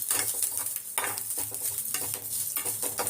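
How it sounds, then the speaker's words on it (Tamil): Coconut pieces roasting in a pan alongside cinnamon, giving a steady close sizzle with frequent scraping stirs throughout. "இந்த தேங்காய் வந்து நல்லா கலர் மாறுற வரைக்கும் வறுத்துக்கணும்."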